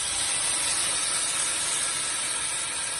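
Chopped vegetables hit a pan of crisp fried onions and sizzle loudly and steadily, a dense hiss of frying that runs unbroken throughout.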